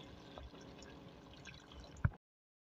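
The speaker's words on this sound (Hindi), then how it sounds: "3 गिलास पानी ऐड करा है वाटर" Water pours into a cooking pot of beef curry with potatoes, peas, bottle gourd, cauliflower and turnip, a soft, steady liquid flow ending in one sharp splash before the sound cuts off abruptly.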